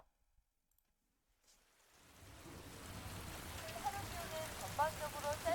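Steady rain for a gloomy, cold scene in a music video fades in from near silence and builds into a dense, even hiss with scattered droplet patter.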